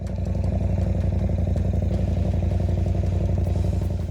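A CF Moto 800 MTX twin-cylinder adventure motorcycle engine runs with a steady, throbbing idle-like rumble and fast, even pulses, close and continuous throughout.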